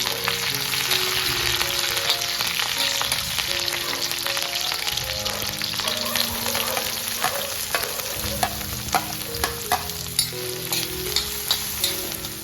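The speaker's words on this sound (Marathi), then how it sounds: "दोन ते तीन मिनिट आपल्याला हा कांदा परतून घ्यायचा आहे" Onion, garlic and green chillies fry in hot oil in a pan for a Maharashtrian wild-vegetable dish, with a steady loud sizzle throughout and frequent stirring clicks and scrapes of a spoon, close up and with no talking.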